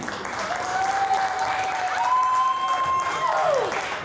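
Audience applause fills a jazz club called the Tip Jar: a steady, dense wash of clapping from a crowd, with a thin sustained tone gliding above it before falling away near the end.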